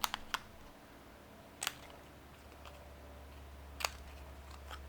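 Scissors snipping the end of a paper scrap for a banner shape, heard as a few sharp, separate clicks and snips spaced a couple of seconds apart over a quiet, low hum.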